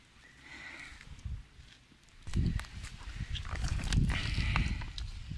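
A pony at an animal enclosure, with soft neighing and snorting mixed with hoof clip-clops and shuffling on the ground, fairly close, with indistinct voices in the background.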